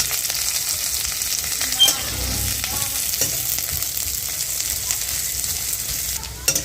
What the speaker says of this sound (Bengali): একটা কাঁচা পেঁয়াজ শুকনো লঙ্কা এই কাঁচা লঙ্কা দুটো দিয়ে দেওয়া হলো এটা ভেজে নেওয়া হবে